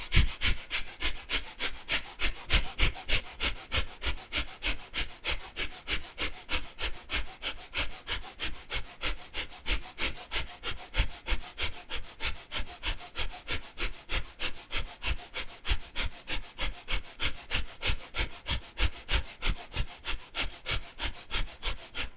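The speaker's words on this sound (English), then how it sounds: "Hold up and begin the breath of fire." Rapid, forceful breath-of-fire breathing during a Kriya yoga practice: quick, even puffs of air at about two per second, sustained steadily and close up with no talking throughout.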